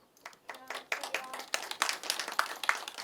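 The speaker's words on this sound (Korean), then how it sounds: "여러분 큰 박수로 맞이해 주시기 바랍니다" Audience applause at a youth debate as speakers are introduced, a loose patter of hands clapping that thickens and grows slightly louder, moderately close with no voices over it.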